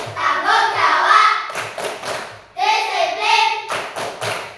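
Fifth-grade students at a school perform a rhythmic class clapping chant, voices shouting words in unison between sharp bursts of claps and thumps, loud and close.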